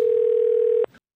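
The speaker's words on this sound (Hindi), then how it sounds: "आलिशा को फोन लगाया जाए" A steady telephone dial tone sounds loud and unbroken for under a second while a call is placed, then cuts off abruptly into silence.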